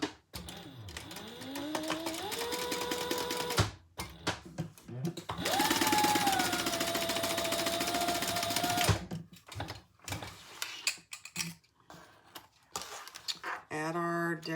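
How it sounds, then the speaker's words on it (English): A sewing machine stitches across the top of a crossbody bag in bursts of rapid mechanical whirring, with brief pauses between runs and a faster final run. "we're going to sew across the top, not the sides."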